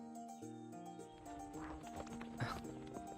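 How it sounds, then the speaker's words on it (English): Horse hooves clip-clop and a short whinny rise from the To the Moon video game soundtrack, sounding over steady background music at moderate level. "I wonder if Neil got off that horse yet"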